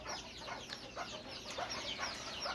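Bantam chicken clucking in a coop, a run of soft, close chirpy clucks and calls repeating steadily over a continuous low background hum, with no talking.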